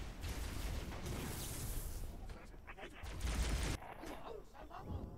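Pistol fire in the Halo Reach video game, part of a busy gunfight mix with rapid shots and booms layered over continuous game noise and some talking.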